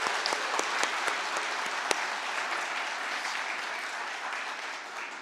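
A church congregation applauds steadily through a pastor's installation service, a dense, sustained wash of many hands clapping at close to moderate distance, with a few sharper individual claps standing out early on.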